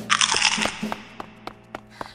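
Cartoon crunching sounds of a crunchy monster in a children's animation: a burst of loud crisp crunching, then a series of sharp evenly spaced crunchy snaps, close and alone.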